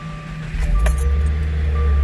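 A car engine starting before an oil change: a metallic key jingle and click, then the engine catches and settles into a loud, steady low idle close by.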